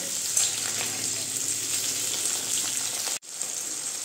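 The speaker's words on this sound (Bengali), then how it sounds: "সঙ্গে দিয়ে দেবো আমি টমেটো, দিয়ে আমি ভেজে নিব হালকা করে।" Onions and tomatoes fry lightly in a pan, giving a close, even sizzle with faint stirring that stops abruptly near the end, then resumes briefly.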